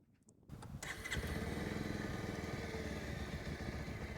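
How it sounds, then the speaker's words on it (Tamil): A Bajaj Pulsar 150 motorcycle engine cranks briefly, then catches and settles into a steady, close, moderately loud idle with no talking. "இப்போ வந்து ஸ்டார்ட் பண்ணியுமே வந்து பார்ப்போம்"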